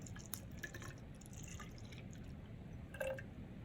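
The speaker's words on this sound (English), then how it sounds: "So let me pour the other 100 milliliters in." Soft water trickling and dripping as water is poured into a tube in a groundwater lab, with a few brighter splashy drips standing out against a quiet hiss.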